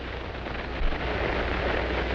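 Explosion from an old western film about frontier gang busters in Arizona, a deep rumbling roar with a brief burst near the start that then holds as a steady, dense rumble without speech.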